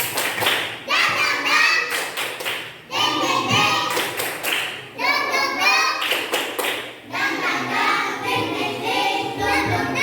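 Schoolchildren in a classroom perform a rhythmic spirit clap, chanting together between bursts of sharp, patterned clapping in several repeated phrases, loud and close.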